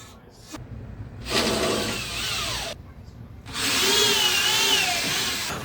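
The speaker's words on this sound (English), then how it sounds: "put it on, screw it on first to make sure everything lines up before I put on glue" A power drill drives screws into the wooden planking of a small homemade sailboat, with two long whirring runs that rise in pitch and strain near the end, then short pauses before the next screw.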